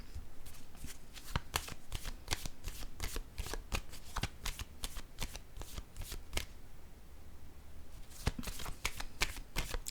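Tarot cards being shuffled and laid down, a close, quiet run of crisp riffling flicks and taps in quick rhythm, pausing briefly before resuming.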